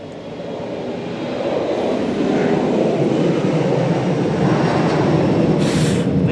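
A steam car engine roars steadily with a loud, dense hissing rush, constant and close, with no voices.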